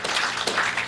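An audience at a Korean civic group's launch ceremony claps to welcome a popera singer to the stage, a brief, dense burst of hand claps at a steady, moderately loud level with no speech.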